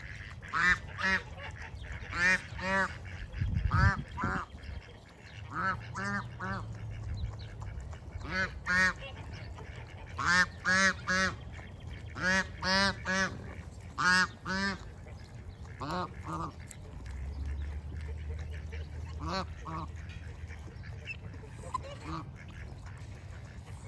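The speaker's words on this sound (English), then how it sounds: "I love the way they talk and make those little noises." Ducklings chattering and peeping in repeated quick bursts, soft and close, with low background rumble throughout.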